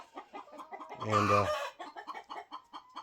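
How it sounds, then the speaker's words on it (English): A hen in a coop bursts into a loud, drawn-out squawking cackle amid rapid repeated clucks from nearby chickens, close and lively, with a brief spoken word. "the hen in the corner is raising sand. She may be finally laying her egg"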